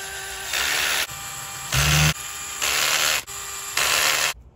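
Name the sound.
2mm driver tightening M2.5 by 10 cap screws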